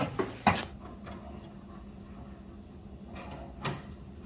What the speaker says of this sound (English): that is going to lower our spare tire down from underneath the vehicle